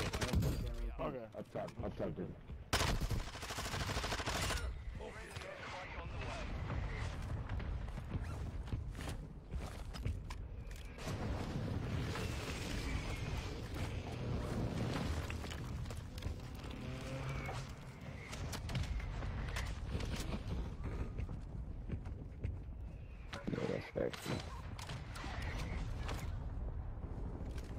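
Video game gunfire, scattered bursts and shots in a dense, busy soundscape under near-constant talk and other game noise throughout.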